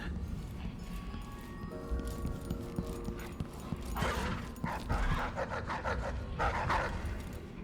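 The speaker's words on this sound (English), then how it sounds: "Oh, the doggies are awake." Dogs barking in the stealth video game Dishonored 2, a few sharp yips and barks in bursts over a busy game ambience with footsteps, fairly near and moderately loud.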